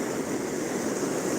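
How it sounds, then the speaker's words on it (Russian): Sea waves break and collide along the Yalta shore at night, a steady, dense roar of surf that holds evenly throughout, close and fairly loud, with no voices. "Смотрите, это одна волна откатная, а вторая приливная."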